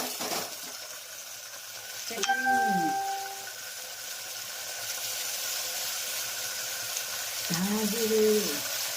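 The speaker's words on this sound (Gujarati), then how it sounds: "રાય સરસ મજાનું કંટોલાનું શાક વઘારાઈ રહ્યું છે" Kantola (spiny gourd) vegetable sizzles in a pan as it is tempered with mustard seeds and cumin, a steady soft frying hiss with a few clattering stirs and scrapes from a utensil.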